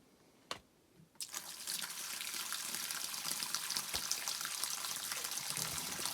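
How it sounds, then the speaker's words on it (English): Water gurgling up from an abandoned deep well under restoration, a soft click or two, then a steady, moderately loud rushing, trickling flow that runs continuously to the end. "Oh, we can hear it gurgling."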